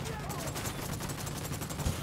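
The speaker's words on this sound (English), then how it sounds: "Opening fire on these fuckers." Sustained gunfire from the Ghost Recon Wildlands video game: a dense, continuous volley of shots rolls on steadily at fairly close range, with no break through the whole stretch.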